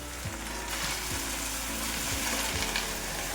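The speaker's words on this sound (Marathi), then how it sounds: "आता मीडियम गॅसवरती तेलावरती आपल्याला भाजी छान परतून घ्यायची" Fenugreek greens sauté in oil over a medium gas flame, a steady close sizzle with a few soft spoon scrapes, no voices.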